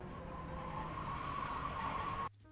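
A race car in a racing video game trails the brakes into a corner at Summit Point, a steady engine drone with a tyre squeal running under it for about two seconds before it drops away abruptly.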